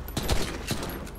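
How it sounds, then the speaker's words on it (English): A short, close burst of several rapid gunshots from a GTA 5 police shootout, with sharp cracks in quick succession over about a second. "Alright, shots fired."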